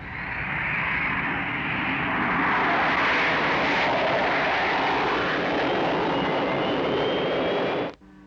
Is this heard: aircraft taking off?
yes